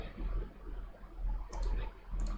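Two sharp mouse right-clicks, one near the middle and one near the end, sounding fairly close over a low background hum while working in structural design software.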